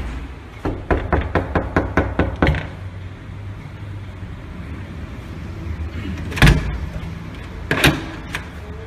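Knuckles rap on a door in a quick run of about a dozen close, sharp knocks, followed after a pause by two heavier, louder single bangs.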